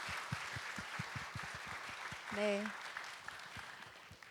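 An audience gives a round of applause closing a Thursday lecture, the claps fairly soft and evenly spaced, while a voice speaks briefly over them midway.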